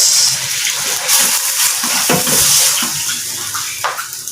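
Water is poured steadily into a cooking pot holding sardines and sponge gourd, a continuous close splashing gush with a few bubbling surges and no talking.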